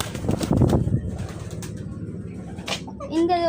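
Pigeons at a village water spot give low, throaty cooing and soft rustling, followed by a brief wing flutter and a few thin chirps near the end, with faint voices in the background.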